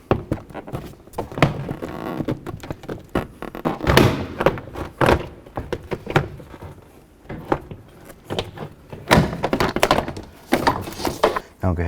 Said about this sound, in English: go ahead and give this a tug and release the plastic door pins